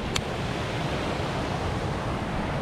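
A small waterfall on a tiny trout creek gives a steady, broadband rush of falling water, close and even, with one brief faint click early on.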